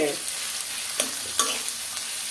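Steady crackling sizzle of dried red chillies frying in hot oil, with a couple of sharper pops and scrapes, no voices.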